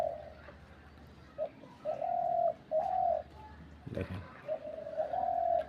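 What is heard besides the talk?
pigeon or dove cooing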